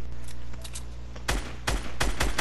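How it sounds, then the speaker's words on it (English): Gunfire in the video game Fortnite during a 20v20 match, loud rapid bursts of automatic shots in several clusters over a dense, noisy game background. "Keep shooting."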